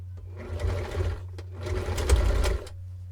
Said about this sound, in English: So we're just going to go ahead and stitch up each of these.